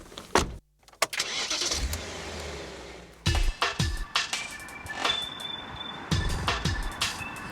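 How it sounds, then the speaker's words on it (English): A BMW M5 with a 5-litre V8 fires up and runs, a deep idle broken by a series of sharp revs and throttle blips, recorded close and loud. "there is a fantastic V8 waiting under there"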